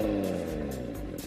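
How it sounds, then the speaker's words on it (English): A 2018 Audi TT RS engine rumbles through its sport exhaust with a deep, throaty note, pulsing slightly as it revs; brief and fairly close. "with the available sport exhaust system, it truly has a unique roar"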